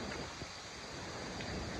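Wind from a dry thunderstorm rushes through trees in a steady, loud, broadband roar that holds unbroken throughout, close to the microphone with no voices.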